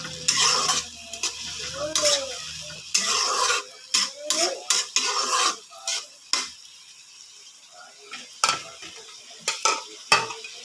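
A spoon stirs fish curry with bottle gourd, tomato, cumin and coriander in a pan, making repeated close scraping strokes against metal over a faint sizzle, with irregular bursts and short pauses and no talking.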